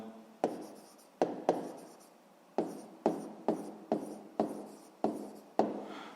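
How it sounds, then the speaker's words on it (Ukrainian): A pen writes out a sixth-grade maths answer by hand in a series of short, sharp strokes and taps, close and crisp, roughly a dozen in quick irregular rhythm. "ну що ж, записуємо відповідь"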